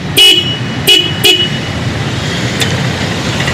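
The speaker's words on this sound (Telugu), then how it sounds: "సరే కీ ఆన్ చేసి మీకు హార్న్ అయితే వినిపిస్తాను నేను" A Honda CB350 motorcycle's loud horn gives three short, sharp honks in quick succession, then a fainter brief beep, over a steady background hum.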